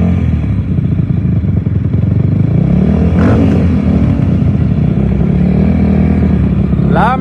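Quad bike engines idle and rev loudly together at the start line of the Cabo 250 2024 off-road race, a dense steady roar with a few sharper revs near the end and faint crowd voices mixed in.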